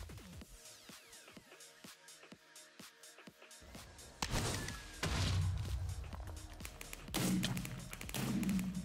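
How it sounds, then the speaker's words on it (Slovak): Grenades fired from above in a Minecraft mod of Fortnite land as dull thuds and heavier booming impacts between lighter taps and footsteps, all fairly quiet and spread across the stretch. "Strieľa granáty od ťa zhora niekde."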